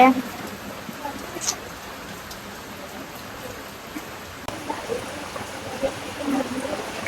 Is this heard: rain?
yes